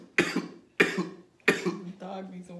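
Three sharp, close coughs at an even pace, followed by a short throat-clearing rasp.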